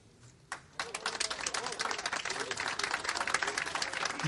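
Audience applause at a campaign speech, starting with a few isolated claps and quickly swelling into loud, dense, sustained clapping from a crowd.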